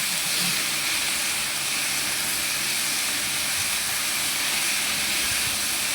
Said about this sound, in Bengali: ছাতুটা ভালো করে ভেজে নিচ্ছি।